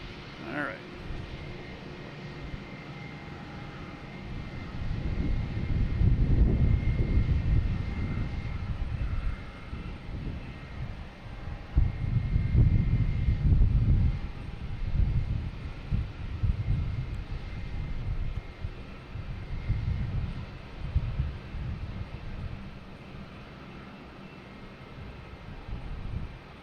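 JetBlue jet airliner landing at Boston Logan, a broad low engine roar swelling and fading in two or three waves, moderately near, with faint talk in the background.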